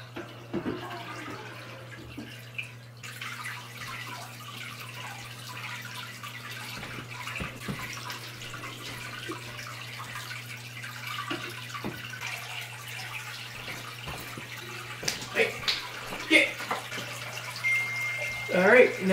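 Water runs and splashes steadily under a constant low hum during an aquarium water change, growing louder and more turbulent toward the end, with a few clatters along the way.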